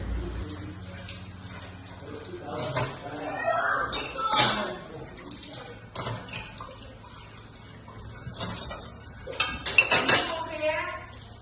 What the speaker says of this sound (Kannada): ಒಬ್ಬರು ಪಾತ್ರೆ ತೊಳೆಯೋದು